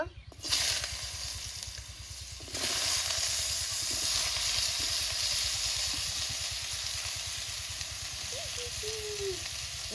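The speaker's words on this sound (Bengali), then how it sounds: "আলুটা ভেজে নেব" Potatoes frying in a pan while shrimp with bottle gourd is being cooked, giving a steady close sizzle and hiss that surges at the start and holds through, with a faint voice briefly in the background.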